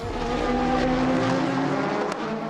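Race cars powering out of a corner at the 2019 4 Hours of Shanghai FIA WEC event, with a loud sustained engine drone rising steadily in pitch and a brief sharp tire noise near the end, with no talking.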